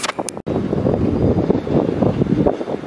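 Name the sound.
strong wind during storm Ciaran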